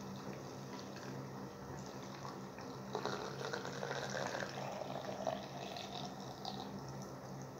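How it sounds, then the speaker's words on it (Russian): Filtered spring water poured into a glass jar of tomatoes being preserved: a faint, steady trickle and splash of liquid that swells midway, set against a low background hum. "Я ее профильтровала, заливаю в баночку."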